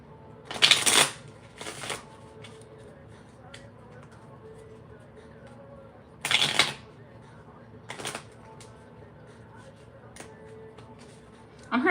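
Playing cards being shuffled in a few loud bursts, separated by quieter handling sounds and pauses.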